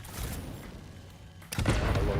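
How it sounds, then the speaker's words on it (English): A video game explosion in Satisfactory goes off with a sudden deep boom that follows a stretch of rumbling, crackling combat noise, loud and close. "A little explosion."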